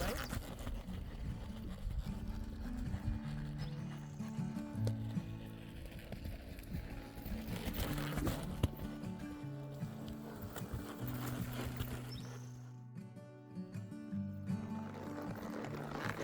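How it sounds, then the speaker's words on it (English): A horse being ridden on a mountain trail on a spring morning gives off steady clip-clop hoofbeats, heard close and continuous alongside creaks and a brief dip toward the end. "riding the Dream horse in the mountains"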